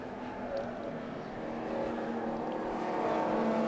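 A Ford Cortina race car at the Silverstone Grand Prix circuit passes at a distance, its engine a steady, building drone with other race traffic in the background.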